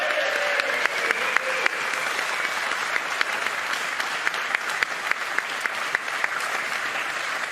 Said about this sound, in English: a round of applause for our 2 finalists